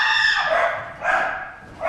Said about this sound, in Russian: когда собаку учат защищать хозяина в случае нападения на него преступников